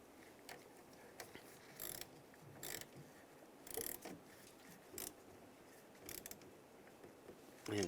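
Hand ratchet tightening the negative battery cable on a 2007-2013 Chevrolet Silverado 1500, several short bursts of quick clicking spaced through the clip, fairly faint and close, with no talking.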